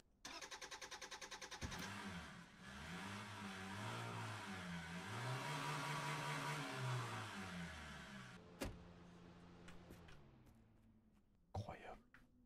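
A car engine in the video game Drive Beyond Horizon cranks with rapid stuttering pulses, then catches and revs, its pitch rising and falling for several seconds before cutting off, with clicks and a few knocks after.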